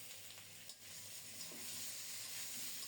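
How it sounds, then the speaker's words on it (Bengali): Potatoes frying in a pan with ground spice paste, giving a steady close sizzle and hiss throughout, with a brief stir or clatter near the start and no talking. "মশলাও ভাজা হচ্ছে, আলুগুলিও খুব সুন্দর মতো ভাজা হচ্ছে।"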